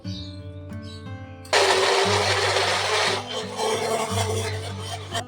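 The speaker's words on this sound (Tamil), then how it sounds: "இப்ப நம்ம இதை மிக்ஸில போட்டு அரைச்சிக்கலாம்" A mixer grinder switches on and whirs loudly, blending star fruit for juice continuously after a short quiet stretch with a steady tonal hum underneath.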